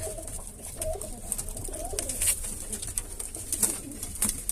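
Pigeons coo steadily in a coop, several low throaty calls overlapping at close range over a constant rustling background, with no one speaking.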